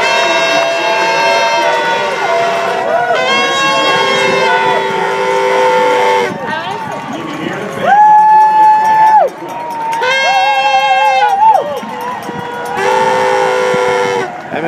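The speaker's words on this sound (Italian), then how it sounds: "Tifosi kiwi in gran festa a San Francisco." Kiwi fans in San Francisco celebrating a double win by Team New Zealand in the America's Cup, a loud crowd with repeated blasts of horns and steady cheering and voices throughout.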